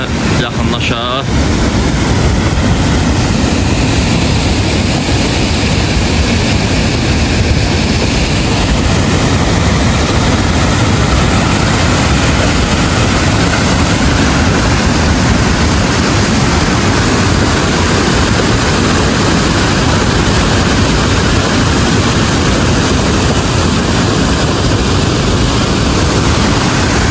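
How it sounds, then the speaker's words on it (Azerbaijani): The Sun waterfall in Lerik roars as a loud, dense, unbroken rush of falling water filling the whole scene. "Şəlaləyə yaxınlaşaq"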